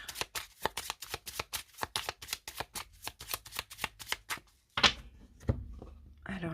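A deck of oracle cards is cut and then riffled in a long run of quick, crisp flutters at close range, ending with a few soft thumps and taps as the deck settles.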